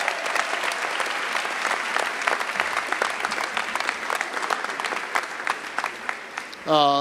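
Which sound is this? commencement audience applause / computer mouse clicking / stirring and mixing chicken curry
commencement audience applause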